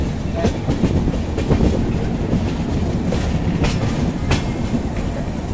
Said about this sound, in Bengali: ট্রেনটা লাইন চেঞ্জ করছে